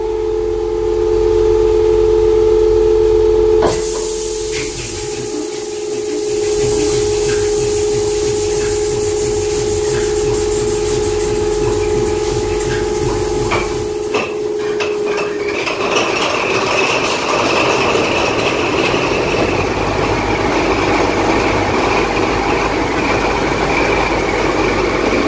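A CC72100 diesel locomotive engine starts up with a whistle-like tone and cranking, then settles into a steady, close low idle that builds to a denser, louder roar in the second half, with no talk.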